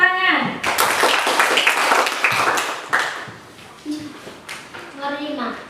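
A classroom of students claps hands together in a quick burst of sharp, close claps lasting a few seconds, with a teacher's voice speaking before and after.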